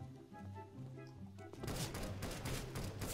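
Rapid gunfire from a newly tried weapon in CS:GO, a quick burst of sharp repeated shots that starts midway and continues loud and close after a quieter stretch of game sound.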